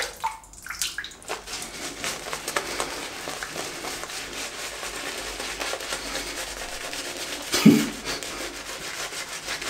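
A Semogue 1305 shaving brush works up a soap lather with a steady, close, wet swishing and rubbing that runs continuously. One louder brief scrape comes near the end.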